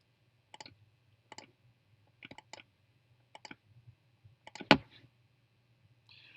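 Mouse clicks while selecting holes in CAM software: about six sharp, isolated clicks, some in quick pairs, spaced through a quiet stretch, near and distinct, with a louder click near the end.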